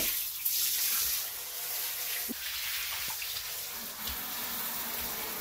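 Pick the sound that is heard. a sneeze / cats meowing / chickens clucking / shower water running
shower water running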